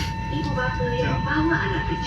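Steady rumble and hum inside an air-conditioned airport train carriage in Malaysia, a continuous close rolling drone with a constant tone, while a person talks over it.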